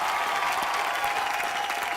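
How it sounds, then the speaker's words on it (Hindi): Loud, steady applause from a studio audience at a televised Colors TV entertainment show, continuous clapping filling the whole moment with no voices over it. "जोरदार तालियां"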